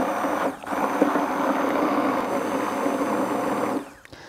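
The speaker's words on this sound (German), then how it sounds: "habe ich hier meinen Mixstab, den gebe ich jetzt hier rein und dann werden die Chilis gut durchgemixt." A steady, loud electric whir of a hand blender running continuously, blending chilis into a chili sauce, starting and stopping cleanly, with no talking.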